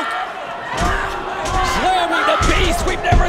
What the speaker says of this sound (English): Slamming the Beast, we've never seen anyone do that.